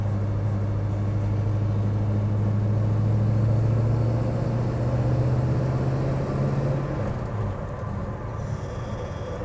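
A 1970 Chevy Chevelle SS 454 with a five-speed gearbox and a tuned carburettor cruises in a high gear, its deep engine drone steady and loud from inside the car, then easing off toward the end.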